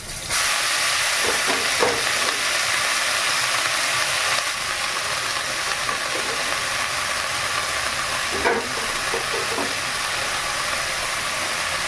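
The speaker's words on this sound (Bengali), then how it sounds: "একটু টক টক হবে শাকটা শাকগুলো দিয়ে দিচ্ছি এবারে" Leafy greens are tossed into a hot pan with turmeric and tomato and start frying, giving a loud, steady hiss of steam and sizzle with a few brief bursts, no talking.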